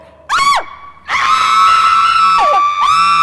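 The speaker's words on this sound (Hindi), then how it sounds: "जब मैं गो बोलूंगा चीखते रहना जब तक मैं स्टॉप ना बोलूं।" Several women scream at full volume in a screaming contest, one short shriek followed by long sustained overlapping screams that carry on loud and close.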